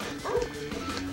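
Small puppy in Super Monkey Ball Banana Blitz barking at sheep, giving short yippy game-style barks over a busy background of game music and effects.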